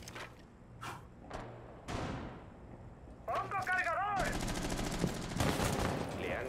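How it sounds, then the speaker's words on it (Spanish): Gunfire in a Ubisoft shooter game: sharp single shots and quick bursts, then a sustained rattle of automatic fire near the end, with someone speaking in brief stretches between shots. "Voy a intentar disparar, a ver si no se me atasca el arma"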